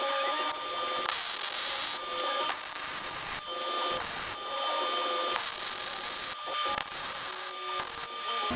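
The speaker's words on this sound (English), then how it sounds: "I do need to do more than just a couple of tack welds to hold this bracket permanently" Tack welding a bumper bracket on a Firebird, a run of short crackling buzzy bursts along the bottom edge, each lasting about half a second to a second, separated by brief pauses, close and fairly loud with a steady hum underneath.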